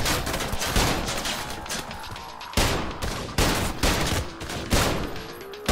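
Gunfire in the shooter Trepang2: loud, continuous bursts of rapid shots, with sharp fresh volleys recurring every second or so.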